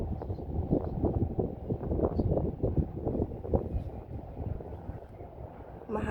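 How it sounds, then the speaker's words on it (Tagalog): Gusty wind on a breezy hilltop with a pavilion at the summit, buffeting and roaring low and steady against the microphone with no talking. "Kaya malamig-lamig na ang simoy ng hangin."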